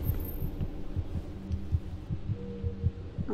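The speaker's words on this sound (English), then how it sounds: "I can like hear his heartbeat. It's going crazy." Racing heartbeat in the horror video game Among The Sleep: rapid, steady low thumps repeating roughly every third of a second throughout, over a faint ambient hum, with no talking.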